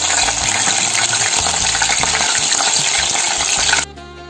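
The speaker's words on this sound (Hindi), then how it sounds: "इसी तेल में हम लोग हरी मिर्च को फ्राई कर लेंगे।" Green chillies fry in hot oil with a loud, continuous, close-up sizzle that holds steady for nearly four seconds before cutting off abruptly.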